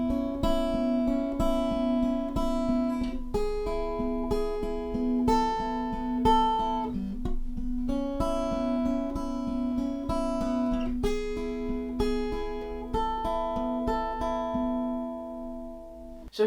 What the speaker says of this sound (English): Our first guitar part is going to sound like this.